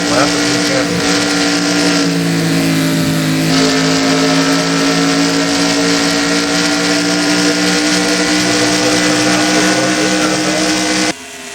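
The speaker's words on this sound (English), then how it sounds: "See what the speed differential between Hernandez's car and Poteet's car." Race cars from the Holley HP Cup Series, NAPRA Can-Am Duel, speed along the track, their engines a steady loud drone with rising tones as they pass and catch one another, continuous for about eleven seconds before cutting off.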